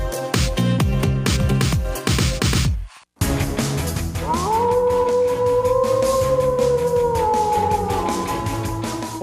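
A long, rising then steady wolf-like howl rings out over a loud music bed after a brief drop, sustained for several seconds.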